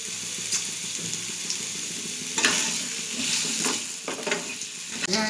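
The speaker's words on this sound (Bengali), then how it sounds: "এবার আলুটা দিয়ে দেবো, আলুটা ভালো করে ভেজে নেব।" Potatoes fry in hot oil with whole cumin for a raw banana curry, a continuous sizzle broken by louder scraping and clattering stirs near the middle and end, heard close and without speech.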